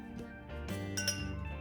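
Glass parts clink and chink together while a bubble tea glass is assembled, several bright ringing taps close up over a steady low background hum.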